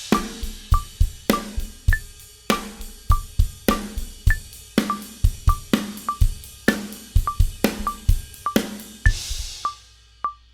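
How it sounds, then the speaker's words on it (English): A drum set plays an odd, lopsided groove in 8th-note quintuplets. Kick, snare and cymbal strokes fall in uneven clusters, and a crash closes the pattern. Close and punchy, with no talking. "We're going from 8th notes to 8th note quintuplets,"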